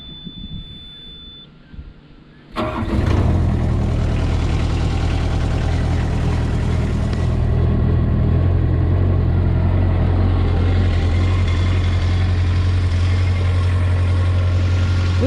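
A Cat 303 mini excavator engine cranks and catches after a quiet couple of seconds, then settles into a steady, loud, low diesel idle that runs on unbroken for the rest of the time.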